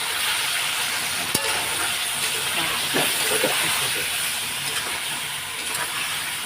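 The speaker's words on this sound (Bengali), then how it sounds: "কষানো হচ্ছে অনেকটা কষানোই হয়ে এসছে" Vegetables and spices are sautéed in a pan for a Bengali home-cooked dish, giving a steady, close, hissing sizzle throughout with faint stirring scrapes and no talk.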